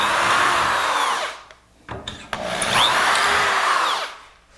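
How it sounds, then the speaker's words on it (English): Power drill boring holes into wooden armoire frame pillars, two sustained whining bursts of a few seconds each with a short pause between, close and loud, no voices. "And although I've drilled all these, I'll drill these two."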